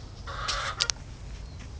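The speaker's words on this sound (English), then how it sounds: "herd the chickens back." Backyard chickens let out of their house cluck and squawk a few times at a moderate distance, with a couple of short sharp calls standing out over quiet surroundings.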